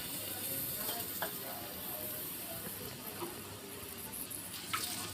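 Chopped onion frying in oil in a pan, a soft, steady sizzle with a few faint clinks, fairly quiet and heard without talk.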